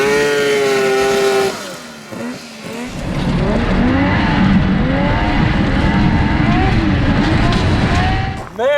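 A custom mini Baja Bug with cutting brakes revs hard, its engine droning and shifting in pitch while tires scrub and skid, loud and close throughout.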